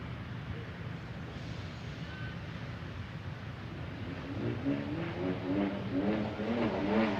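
A BMW E36 drift car at a grassroots drift event, its engine revving hard and steady from a distance, rising in pitch and intensity toward the end.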